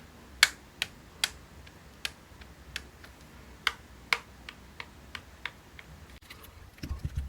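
Handle of an older model baitcasting fishing reel clicking from shaft play, a series of sharp, close, isolated ticks at irregular intervals in a quiet room, followed by a cluster of quicker clicks at the end.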